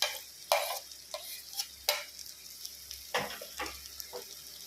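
Fried taro pieces are gently folded into a simmering curry, with a quiet sizzle under sharp, irregular scrapes and taps of a spoon against the pot, about a dozen strokes close by.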